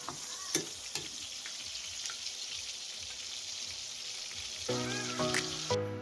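Eggplant frying in a pan for ginataang yellowfin tuna, a steady close sizzle of hot oil with occasional light clinks and pops, no voices.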